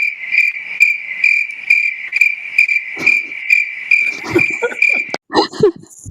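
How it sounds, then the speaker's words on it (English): A cricket sound effect chirps in a steady pulsing rhythm, loud and close, while people talk softly underneath toward the end. "I'm sorry that cricket noises had to be played."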